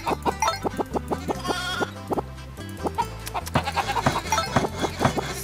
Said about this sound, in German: Ich werde mal das Schaf behalten.